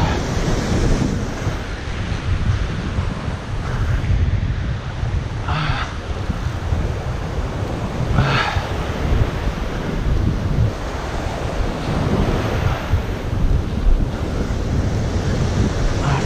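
Ocean waves break steadily in shallow surf with constant wind rumble on the microphone, a continuous loud wash with a few brighter splashes and no speech.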